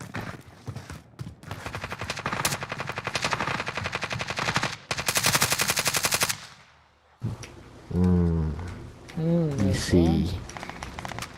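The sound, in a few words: QBZ assault rifle gunfire in a video game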